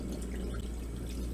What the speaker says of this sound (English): Then we're going to add water,